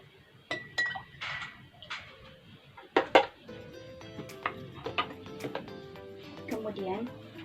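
A metal spoon clinks irregularly against a glass while stirring salt into water for a home Archimedes floating-egg experiment. The bright, close taps and scrapes come in bursts over a soft, steady background.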